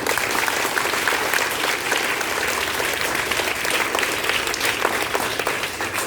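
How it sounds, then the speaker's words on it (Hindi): Loud, sustained applause from an audience at a yoga awareness gathering, dense clapping filling the whole stretch at steady volume with no talk over it. "जोरदार तालियां पहले उस बच्ची के लिए।"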